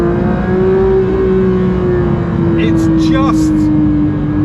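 A Porsche 911 GT3 of the 992 generation holds a loud, sustained high-rpm engine note near 8,000–9,000 RPM from inside the cabin, with a brief spoken remark over it.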